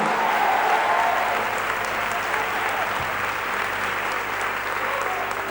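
A church congregation applauds steadily, a dense sustained wash of clapping from many hands throughout, with a brief shout near the middle.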